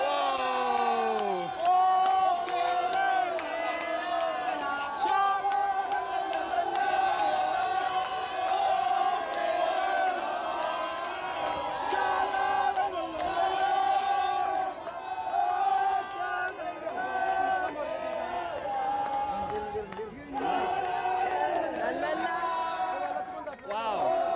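A huge stadium crowd of Kerala Blasters football fans roars and chants continuously at a match against Gokulam, voices swelling and rising together in a loud, sustained wall of cheering.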